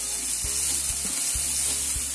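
Onion, beans and capsicum frying in a pan: steady, bright sizzling with a few soft stirring knocks from a spatula, close and continuous, with no talking.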